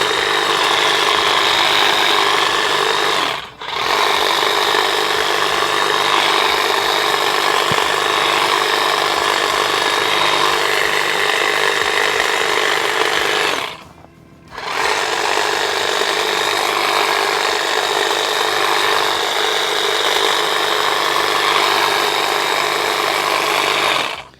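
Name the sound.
STIHL HLA 65 hedge trimmer cutting hedges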